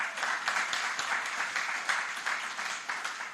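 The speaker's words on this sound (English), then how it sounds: "Give them a round of applause." Audience at a Jamaican government procurement launch event applauds steadily, a dense, continuous wash of clapping hands with even loudness throughout, no voices on top.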